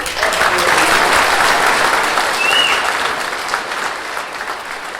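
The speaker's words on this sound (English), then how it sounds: "you should give them a round of applause" Sustained applause from a large crowd at a community gathering about Broken Hill and the Menindee Lakes, dense and steady throughout and tapering slightly toward the end.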